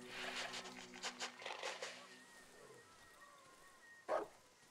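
A few short dog barks in the horror video game Darkwood, faint and somewhat distant, followed by quiet and then a single louder bark near the end.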